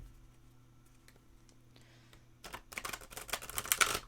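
Quiet at first, then a burst of rapid papery flicks and riffling as a deck of Queen of the Moon oracle cards is shuffled close by, growing denser toward the end.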